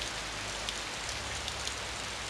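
Steady rain falls as a dense, even hiss in the horror video game Otogirisou: Rebirth, with a low rumble beneath and no voices.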